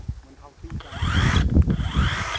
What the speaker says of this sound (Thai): ใช้เลื่อยครับวันนี้ เลื่อยวงเดือนแบบนี่ครับ